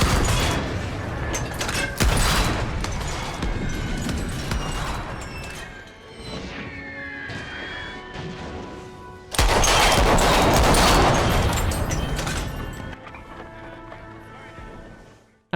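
Artillery barrage from a Napoleon: Total War Great War mod battle, loud dense rolling gunfire and blasts filling the whole stretch, easing midway then surging again with a heavy fusillade before fading.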